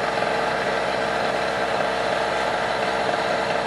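A Harbor Freight 800 watt portable generator runs on the last of its fuel after the fuel valve is shut off. It makes a continuous buzzing engine drone with a fast, even pulse, loud and close, without speech.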